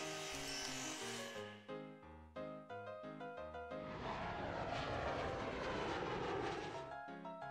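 Plucked game music in OpenTTD gives way midway to a rising, continuous roar of airplanes flying, which persists loudly under the tune until the end.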